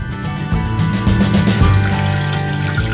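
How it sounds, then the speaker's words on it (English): Cold tap water runs into a sink as walnuts are rinsed under it, giving a close, steady splashing pour with small clattering shifts. "Then give them a good rinse under the sink with some cold water just to get any little loose pieces off"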